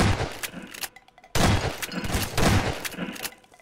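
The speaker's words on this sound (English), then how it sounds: "Are you shooting me?" Gunfire in the Prop Hunt video game, a few loud broadband bursts of shots in quick clusters, close and sharp, standing alone without talk.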